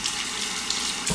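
Tap water runs into a sink to rinse a razor between shaving strokes: a steady close splashing wash lasting about a second, with a brief louder splash near the end.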